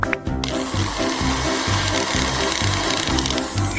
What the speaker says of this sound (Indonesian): Oke, tolong haluskan.